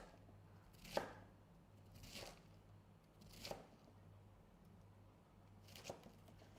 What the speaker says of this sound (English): So we'll be cutting cabbage as well, the same way.